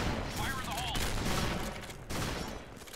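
Gunfire in the first-person shooter game Point Blank rattles in quick bursts through a busy mix, with rapid shots and sharp cracks spread across the stretch and faint game sounds around them.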